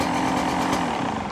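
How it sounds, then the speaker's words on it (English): A 2025 Beta 200 RR X-Pro two-stroke dirt bike engine idles cold, a loud, close, steady buzzing drone with a slight rise toward the end. "You never want to set idle when the engine's cold, so like we're gonna let it run for a minute right now"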